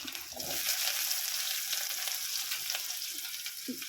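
Chillies, garlic and chopped onion fry in hot oil for a moringa-leaf curry, giving a steady, loud sizzle that runs the whole time, with a few soft stirring knocks and no voices.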